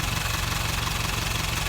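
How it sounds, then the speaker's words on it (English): The diesel engine of a 1991 Nissan Atlas tipper truck idles steadily and low with a rhythmic knock, running evenly and close by with no voices. "Engine itself isn't noisy, no bearing noise or anything from the alternator or power steering pump."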